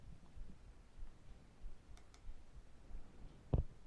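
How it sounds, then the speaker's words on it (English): A computer mouse click while Windows settings are changed: one sharp, close click stands out near the end over a quiet room, with a couple of faint ticks before it. "Click OK."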